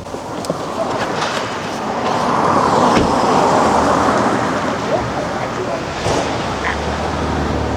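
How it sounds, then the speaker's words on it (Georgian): Street traffic around a taxi stand in Chiatura, a broad wash of passing cars swelling and fading with scattered clanks and thuds, while people talk nearby. "აი ტაქსების ბირჟა წამო,"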